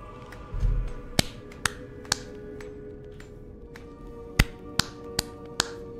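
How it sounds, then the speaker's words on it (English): Sharp, isolated claps from a character's clapping emote in the video game Lies of P ring out one at a time at uneven intervals over quiet background, crisp and close. "Time for a little bit of clapping."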